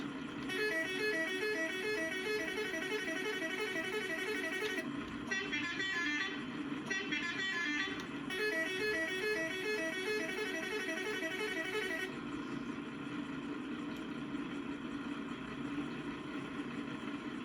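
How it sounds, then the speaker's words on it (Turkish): A loud, steady dual-tone horn from a MAN 32.270 truck in Euro Truck Simulator 2 blares continuously with brief breaks, its bright harmonic stack sounding like a truck air horn held down in bursts. "Çift kornamız var."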